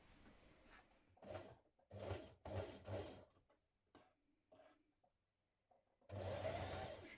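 A sewing machine stitches a double-folded fabric hem on a blouse in short bursts of fast, even mechanical whirring, broken by pauses, then ends with one longer run, close and fairly quiet.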